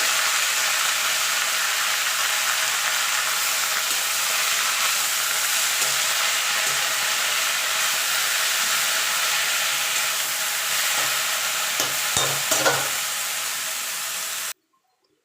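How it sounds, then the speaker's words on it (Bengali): Beto greens (bathua) with garlic sizzle and hiss steadily in a hot pan, with occasional stirring scrapes, loud and close, ending abruptly. "এবার শাকটা আমি দিয়ে দেবো"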